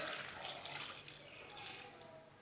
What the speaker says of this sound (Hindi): 1 गिलास पानी डालेंगे